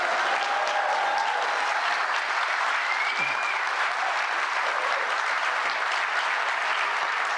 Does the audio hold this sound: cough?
no